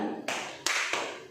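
Three sharp hand claps in a group clapping game, spaced irregularly and moderately close, each trailing off quickly with no talking.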